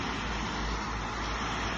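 Road traffic in a town, a steady broadband rumble and wash of passing vehicles, fairly constant with no distinct individual cars standing out.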